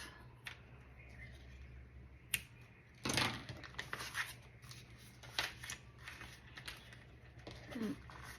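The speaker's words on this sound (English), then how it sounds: "now we're going to cut these ends off" Scissors trim the ends off paper for a kids' sketchbook, with a few distinct crisp snips and some paper rustling over a quiet background hum.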